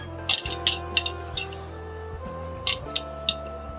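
A metal steamer rack, coated with oil, is set down inside a pot while steaming ukadiche modak, giving a few bright clinks and metallic knocks over a low steady hum, close and fairly quiet.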